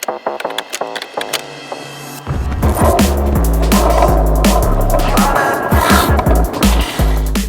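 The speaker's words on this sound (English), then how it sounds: "I got skateboarding going on in front of me." Skateboard wheels roll and clatter nearby at a DIY skatepark, with repeated sharp deck clacks and impacts, then a loud steady machine hum and rumble comes in behind the rolling.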